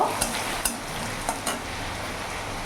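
Spices stirred into papaya and chana dal frying in a pan, a steady sizzle broken by a few sharp clinks of a spoon against the pan.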